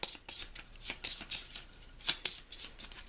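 Cards from a Pandemic Reign of Cthulhu board game are riffled and bridged at close range, soft repeated papery flicks and taps coming in uneven bursts.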